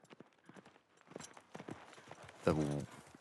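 Horse hooves clip-clop in The Last of Us Part II, with a loud harmonic burst near the end, all under continuous voices talking.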